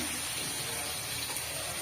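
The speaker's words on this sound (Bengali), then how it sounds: "পানি দিয়ে দিচ্ছি, পাশের পানি।" Water pours steadily into a cooking pot in a village kitchen, a continuous gushing splash that fills the whole short moment.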